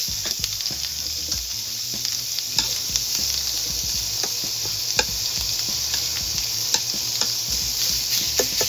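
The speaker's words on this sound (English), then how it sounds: "So tuck this in here. Like I said, we're going to make a crust on this." Uncooked pork chorizo sausage searing in a pan on an induction burner, giving a loud, steady sizzle with crackling pops and occasional sharp taps from a utensil, with no one talking.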